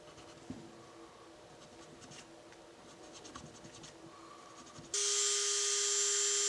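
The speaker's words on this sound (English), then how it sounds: "There's a round file that I can get in there, very, very small file set, and clean all those up." A very small round file scrapes over a model figure in short, uneven strokes, giving faint close scratching. A loud steady hiss then cuts in abruptly and continues to the end.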